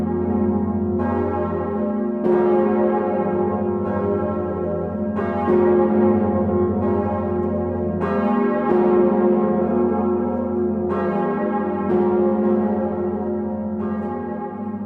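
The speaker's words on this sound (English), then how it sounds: "just the two Bourdons together, that when they ring side by side, it's a great sound" Two large bourdon church bells ring together, their loud overlapping strikes repeating every second or two over a deep, sustained humming drone, with no voices.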